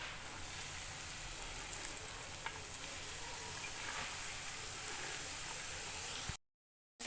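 Spinach stir-frying in a pan gives a quiet, even sizzle that keeps going steadily for a few seconds and then cuts off abruptly.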